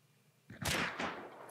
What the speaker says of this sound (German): Ich krieg genau aus deiner Richtung den Schuss.